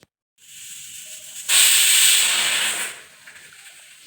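A pressure cooker boiling medicinal herbs hisses out steam, rising to a loud, bright sustained blast for over a second before easing back to a softer continuing hiss.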